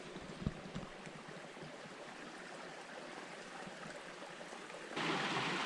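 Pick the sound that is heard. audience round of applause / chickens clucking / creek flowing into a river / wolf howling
creek flowing into a river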